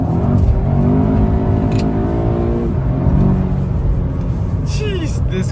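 An Audi S3 engine pulls hard and climbs in pitch, then eases off briefly and revs up again. It sounds loud and close from inside the car, with someone talking over it.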